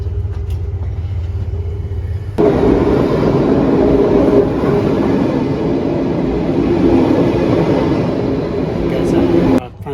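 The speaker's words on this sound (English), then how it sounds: "Got on my train, the last leg from Bern to Geneva." Steady low rumble and rattle of a Swiss train carriage in motion between Bern and Geneva, loud and continuous, with a sharp rise in noise a couple of seconds in.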